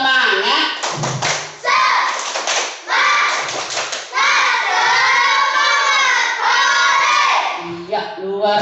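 Schoolchildren in a classroom erupt in loud, close cheering and shouting, with bursts of rhythmic clapping between excited yells, the whole group chanting together.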